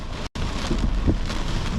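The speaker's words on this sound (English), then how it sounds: "wind and the rain" Storm wind and rain during a live storm chase in South East Queensland, a loud steady broadband wash of rain and gusts that continues throughout, broken by one very brief dropout near the start.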